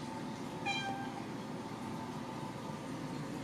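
A house cat gives a single short, rising meow at a distance, asking for food, against a steady low household background hum; the rest of the stretch stays quiet.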